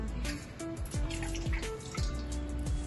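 Water splashing into a deep pot in a quick run of hollow plops and drips, each drop ringing briefly against the metal.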